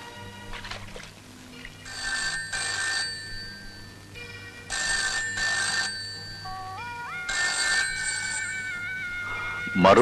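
A telephone rings repeatedly in a Malayalam movie scene, loud bursts of bell ringing in a regular on-off pattern, with a low background score and brief voices between the rings.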